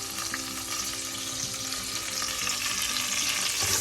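Onion, ginger and curry leaves stirred and frying in a pan for rava upma, a steady close sizzle with intermittent scraping and clinks of the spoon, and no talking.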